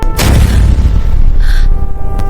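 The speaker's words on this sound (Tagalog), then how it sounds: "Ang lalakas ng mga pagsabog sa labas." War drama sound effect of loud explosions outside, a heavy booming blast up front that rumbles on, with a second burst near the end.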